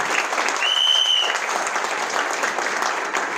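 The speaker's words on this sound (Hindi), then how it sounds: "ताली होनी चाहिए उसके लिए।" An indoor audience applauds at a talk, a dense, sustained clapping that stays loud and even from start to finish.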